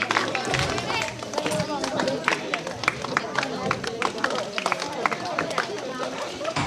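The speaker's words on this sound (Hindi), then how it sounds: "तालियां बजाते रहे" Crowd at an award ceremony in Kanhan Range, South Chhindwara, clapping continuously in a dense, close patter, mixed with crowd chatter and voices.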